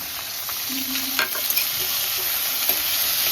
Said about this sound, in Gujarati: એની પાછળ પાછળ આપણે આ બધા જ વેજીટેબલ્સ નાખી દઈશું ટામેટાં કેપ્સિકમ ડુંગળી